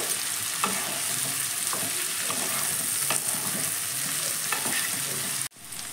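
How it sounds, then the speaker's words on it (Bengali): Carrots, long beans and capsicum sizzle loudly in a pan with repeated scraping stirs of a spatula, a steady frying hiss that cuts off abruptly near the end. "গাজর বরবটির সঙ্গে ক্যাপসিকামটাকেও আমি একটু ভেজে নেব।"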